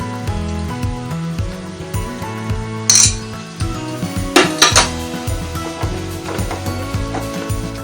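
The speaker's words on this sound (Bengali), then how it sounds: "মশলাটা, টমেটোটা, পেঁয়াজটা নাড়াচাড়া করে নিয়ে এবার আদা রসুন বাটাটা দিয়ে দেব।" A spoon scrapes and clinks against a pan while spices, tomato and onion are stirred together, with a few sharper metallic knocks standing out over steady background music.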